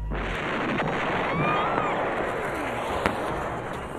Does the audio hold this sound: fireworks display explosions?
yes